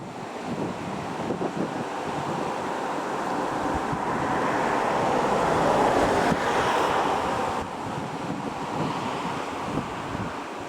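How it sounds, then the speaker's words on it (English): Steady gusting wind roars across the microphone, swelling louder in the middle and easing off, with no voices. "A bit higher up here, so it's going to get a bit windy"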